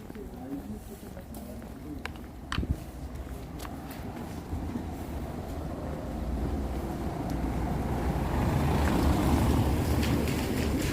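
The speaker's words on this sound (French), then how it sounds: "Ah, le doux son du diesel. Les tracteurs, oui." A diesel tractor engine rumbles past on a town street at night in Paimpol, a low growl that grows steadily louder as it approaches, with wind buffeting the microphone and voices talking over it.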